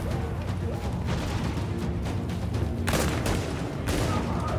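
Rapid gunfire during a firefight in Tom Clancy's The Division ending in a headshot, a dense continuous rattle of shots with a sharper burst near the end, under constant busy game noise.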